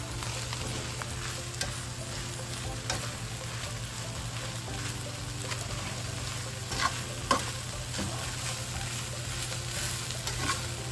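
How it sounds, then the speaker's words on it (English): Tomato paste is worked into sizzling shepherd's pie filling in a pan, a soft continuous sizzle with occasional scraping stir sounds, fairly quiet and close, with no talking. "So work your tomato paste in there."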